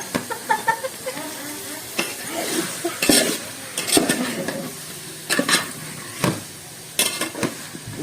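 Chicken curry with coriander stirred in a pan, a sizzling bed broken by scraping spoon strokes and sharp metallic clinks against the pan at irregular intervals, close and alone.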